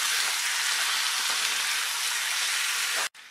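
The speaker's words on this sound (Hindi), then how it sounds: "और अब हम इस चिकन को प्याज के साथ अच्छे से मिक्स करेंगे।" Chicken frying with browned onions in a pan as it is stirred, a dense steady sizzle that holds loud and close before cutting out abruptly near the end.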